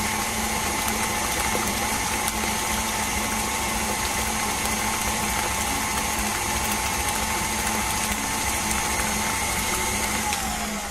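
Electric mixer beating upside-down cake batter, a loud steady whirring drone with a constant motor whine that holds evenly throughout, close and uninterrupted with no talk.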